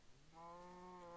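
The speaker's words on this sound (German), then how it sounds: "Ich höre eine Kuh." A cow in the video game Minecraft lets out a single sustained moo, a steady harmonic low call starting after a brief quiet moment and holding to the end, moderately loud with no talking.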